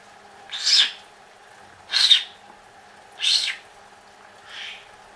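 Four evenly spaced, high-pitched calls from crow chicks repeat about once every second and a half, the last one fainter, over a quiet steady hum.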